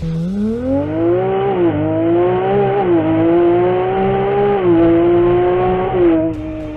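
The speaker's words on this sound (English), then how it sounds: "let's try to make an acceleration and listen to the sound of the 296 GTB." A Ferrari 296 GTB (2021) sports car engine revs up loud and close, its pitch climbing steadily with brief dips at gear changes, a smooth rising roar throughout.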